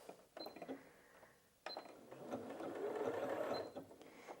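A Janome 8200QCP sewing machine stitches in quiet bursts, its rapid mechanical whir starting and stopping a couple of times before a longer steady run, close and faint with no talk.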